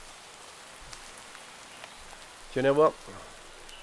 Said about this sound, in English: That's really raining, isn't it?